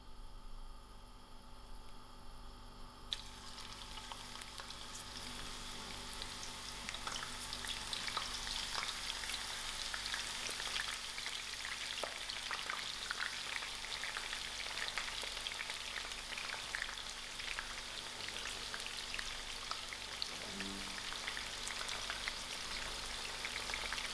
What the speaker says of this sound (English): I'll allow these onions to fry.